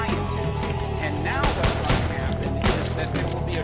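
Video game gunfire from shooting zombies in Zombiehunter, loud rapid bursts of shots layered over constant game music and effects, dense and continuous across the whole stretch.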